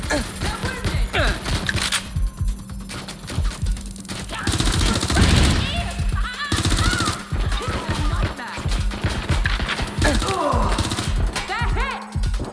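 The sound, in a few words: gunfire in a shootout in the video game Watch Dogs: Legion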